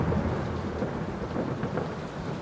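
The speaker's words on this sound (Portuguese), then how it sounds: "Não me assustei com o trovão." Thunder rumbles through a heavy rainstorm in the horror game Layers of Fear Remake, a continuous low roar with steady rain, loud and close, no voices.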